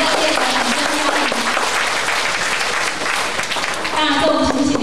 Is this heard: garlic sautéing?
no